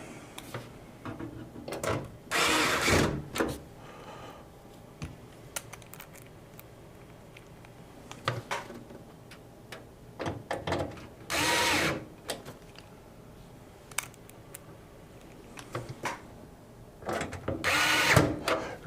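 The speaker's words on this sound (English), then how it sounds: "Make sure that you have got all stand-ups and screws all screwed down." Bursts of a small power screwdriver or drill driving screws into motherboard standoffs during a PC build, several short whirring runs spaced apart with quiet pauses between them.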